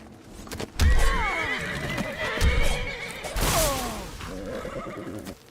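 Horse in the Skyrim video game neighing and whinnying several times, with clip-clopping hooves, close and fairly loud amid game action.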